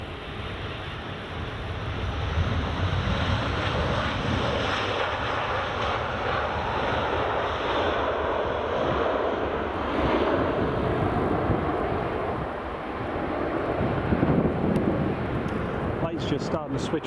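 An EasyJet airliner at Edinburgh Airport roars steadily as a broad, loud jet rumble that swells and holds for the whole stretch, with wind buffeting the microphone and a voice talking now and then.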